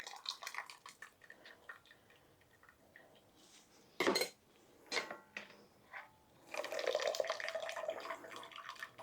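Whey from a blender is poured through a fine mesh strainer into a bowl, with liquid splashing, metal clinking against the bowl and short tapping knocks, ending in a steadier pouring rush.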